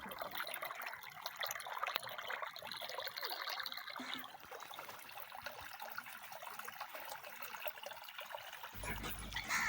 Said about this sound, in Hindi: मुझे इस तरह से जो पानी की आवाज़ है वो इतनी अच्छी लगती है